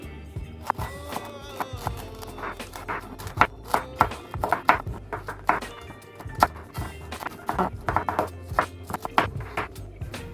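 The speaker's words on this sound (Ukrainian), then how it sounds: "А оцю штуку ми нарізаємо дрібними слайсами." A knife chops and slices repeatedly against a cutting board, irregular sharp knocks close up with a faint hum underneath.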